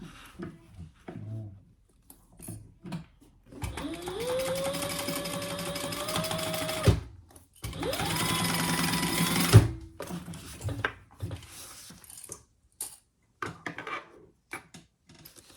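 A sewing machine stitches a seam through fabric and lining at full seam allowance, running in two steady bursts of several seconds each, with quiet handling noises between them and no talk.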